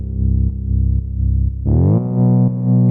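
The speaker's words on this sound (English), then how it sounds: "the filter very nicely overdrives" Synthesizer with its filter overdriven by a multi-drive, a steady pulsing buzzy tone that jumps to a brighter, harsher, more saturated sound partway through, loud and up front.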